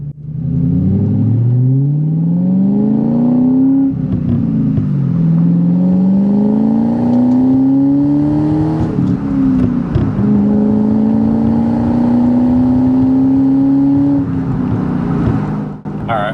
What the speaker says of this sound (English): We'll do another little aggressive pull up this hill.